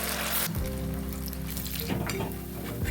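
Cauliflower pakoras deep fry in a pan of oil, a dense, steady bubbling sizzle heard up close, with a faint clink of a utensil near the start and no speech.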